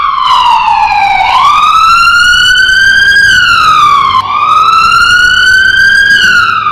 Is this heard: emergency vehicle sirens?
yes